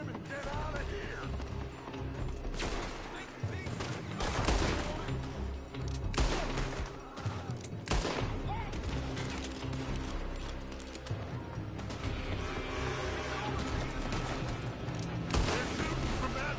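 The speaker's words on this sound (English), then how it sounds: "They're shooting from that building!" Repeated gunfire and volleys in the Western video game Red Dead Redemption, sharp shots bursting over a dense, continuous game soundscape with music and shouted voices throughout.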